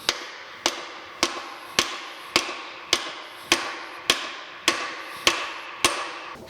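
A lead hammer taps the metal shifting lever of a New Haven metal planer under restoration, about eleven sharp, evenly spaced ringing knocks, close and clear with no talk.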